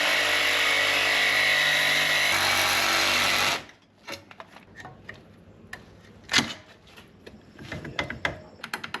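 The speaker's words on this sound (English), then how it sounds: "we're gonna weld it up too, just in the right position" Welding repair on a Chrysler Newport: a loud, steady buzzing crackle runs for several seconds, then stops abruptly, followed by scattered metallic clanks and taps close by.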